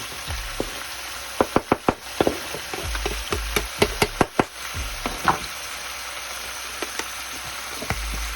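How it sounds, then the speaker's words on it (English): Garlic and herbs hit mussels in a hot pan, raising a steady close sizzle and frying hiss, broken by sharp clicks and knocks of shells and a utensil stirring, no voices. "So I'm going to go ahead and add the garlic and the herbs"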